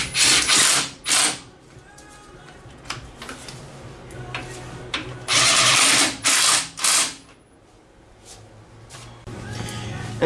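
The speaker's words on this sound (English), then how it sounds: "We'll snug these bolts down." Ratchet snugging bolts on a lower ball joint of a 1997-2004 Ford F-150, a series of loud clicking bursts with short pauses between them, close up, with no talk.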